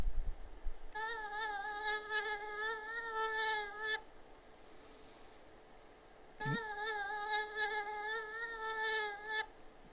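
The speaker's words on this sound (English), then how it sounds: "Do you know what that one is? It's a mosquito." A mosquito buzzing sound bite: two high, thin whining bursts of about three seconds each, separated by a short quiet gap, fairly faint and with no voices.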